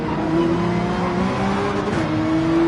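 A Porsche 911 race car in Gran Turismo 7 drones loudly and steadily at a sustained high engine pitch, with faint tire and road noise and a slight pitch dip near the end.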